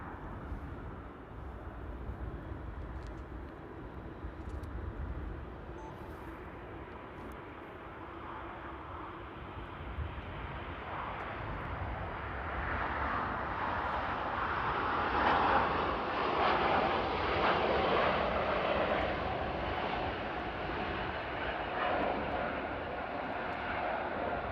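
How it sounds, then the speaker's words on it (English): An Airbus A350 heavy jet takes off at Paris Charles de Gaulle, its engine roar building from a steady broadband rumble into a louder, fuller surge midway before holding strong to the end. "we got another heavy going, another A350. Let's do a little close-up takeoff there."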